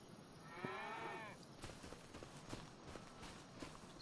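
A cow lows once in a short, drawn-out moo within the Farming Simulator 25 video game, followed by soft hoof clops and footsteps on hard ground, all fairly quiet.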